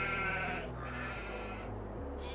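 A sheep bleats in Farming Simulator 22, a drawn-out wavering call over a steady low game ambience, quiet and with no voices.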